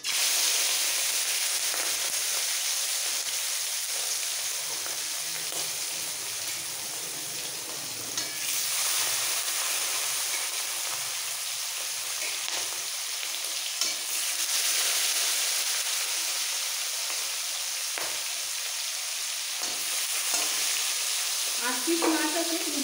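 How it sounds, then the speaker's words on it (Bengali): Prawns rubbed with salt and turmeric dropped into hot mustard oil, giving a dense, loud, continuous sizzle that crackles close by, with no talk over it. "এবার নুন হলুদ দিয়ে মাখানো মাছগুলো ছেড়ে দিচ্ছি।"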